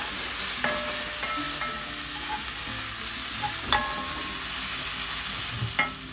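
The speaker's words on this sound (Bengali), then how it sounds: "পেঁয়াজটাকে ভালো করে ভেজে নেওয়া হচ্ছে।" Onions frying in a pan, cooked before octopus goes in, a steady close sizzle with a few sharp clinks and scrapes of the spoon stirring at intervals, no talk.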